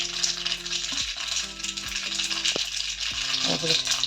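Cumin and green chilli crackle and splutter in hot oil, a dense sizzling pop with a few knocks of a utensil against the pan; no talking.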